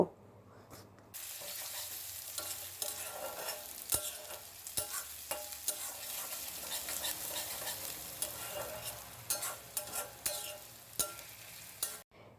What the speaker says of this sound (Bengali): পেঁয়াজটা একটু ভাজা ভাজা করে নিয়ে আদা রসুন বাটা দিয়ে দিলাম তারপর আবার একটু মশলাটা কষিয়ে নিয়ে